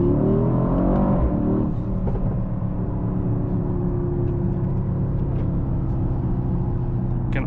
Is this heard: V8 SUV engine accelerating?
yes